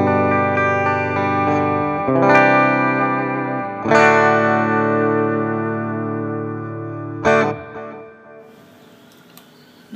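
A Music Man JPX electric guitar on its DiMarzio Crunch Lab bridge pickup rings out loud, sustained chords, processed with distortion and chorus-like effects, each strum decaying slowly before the next, ending in faint noise.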